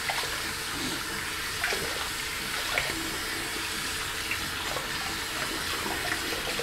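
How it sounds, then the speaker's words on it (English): Tap water runs steadily into a bathroom sink during tooth brushing, a close continuous hiss and splash with faint small clicks and knocks. "Let me go brush my teeth."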